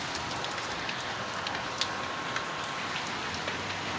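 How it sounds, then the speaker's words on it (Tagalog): Heavy rain falls in a dense, steady hiss, loud and constant, with occasional sharper drops striking a nearby surface and no voices. "bigla na bumagsak ang malakas na ulan"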